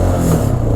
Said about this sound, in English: this thing's revving right now